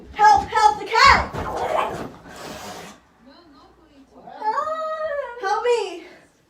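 A cat yowls and caterwauls loudly during an attack, harsh wavering cries mixed with a frightened person's shouting, then a rising drawn-out wail after a brief lull.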